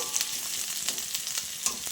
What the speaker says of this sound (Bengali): ডাঁটাগুলো কিন্তু আমি ভাজা করে নিচ্ছি, দেখো বেশ খানিকটাই ভাজা হয়েছে, আর একটু ভাজবো।